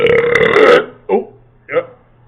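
Loud, long burp after drinking Coca-Cola, close to the mic, followed by two short vocal sounds with quiet gaps between them.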